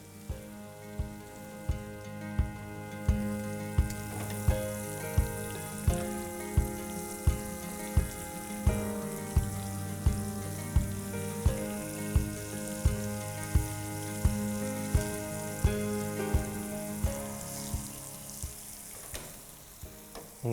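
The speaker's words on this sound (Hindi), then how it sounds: "पनीर को सेकना है" Paneer sizzles in a hot pan for a spicy Lahori paneer dish, a steady frying hiss beneath regular rhythmic thumps of music, with no voices.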